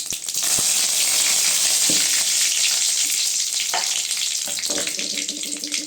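Curry leaves sizzle and crackle in hot oil with dried red chillies for a Tamil rasam, a loud, steady frying hiss filling the whole stretch with a few small pops and stirring knocks near the end.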